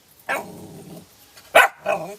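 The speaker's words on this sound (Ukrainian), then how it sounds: "Відв'яжи її, бо гавкає." A tied-up dog barks at close range, giving three sharp barks separated by short pauses, with the first bark trailing into a brief growl.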